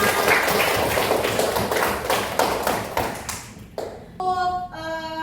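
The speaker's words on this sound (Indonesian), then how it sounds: "boleh ngasih tepuk tangan lagi untuk kita semua" A fifth-grade primary school class claps together in a steady, rhythmic pattern for several seconds, loud and close, then the clapping stops and a short chiming tonal jingle follows.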